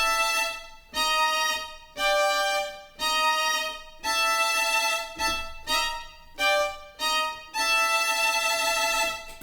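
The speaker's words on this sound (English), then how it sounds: "if we were to play this on a piano with close voicings, the sound would be incredibly dramatic" Dense, dissonant piano chords in close voicings, struck in a series of sustained blocks separated by brief gaps, with a quicker run of short chords toward the middle before a final long-held chord, played alone.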